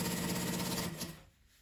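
A sewing machine stitches through a layered sandwich of fabric, lining, bias binding and plastic, running steadily and loudly for about a second before stopping, leaving quiet behind.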